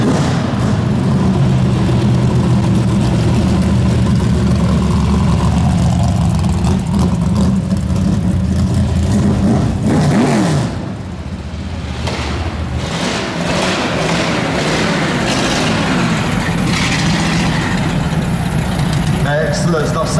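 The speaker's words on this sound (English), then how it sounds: "The first one coming in, as you can hear it, 600, 700 brake horsepower V8 Chevy." A 600-700 brake horsepower V8 Chevy race car engine rumbles and revs loudly indoors at a motorsport show stage, with heavy bursts of throttle and a commentator talking over it throughout.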